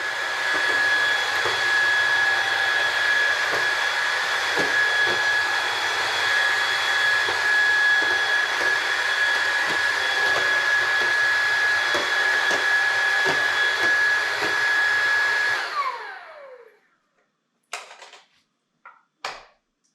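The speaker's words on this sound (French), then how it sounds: "Et là, il va absorber donc toute l'eau qui est au sol." A Roborock Dyad wet-dry vacuum runs loudly with a steady whine, sucking water off a floor. It stops abruptly near the end, leaving a few brief clicks.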